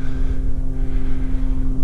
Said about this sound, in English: Really sorry about the noise of the plane.